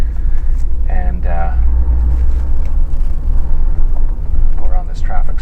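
A 1990 Toyota Supra Turbo engine accelerating through fourth and fifth gear in traffic, a steady, loud, low drone from inside the car with someone talking over it.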